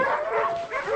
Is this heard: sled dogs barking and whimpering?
yes